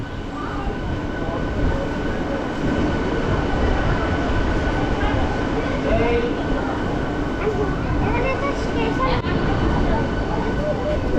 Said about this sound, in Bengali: একদম সঠিক সময় নির্ধারিত 1:45-এ কিন্তু আমাদের ট্রেন ঢুকে গেল দীঘা স্টেশনে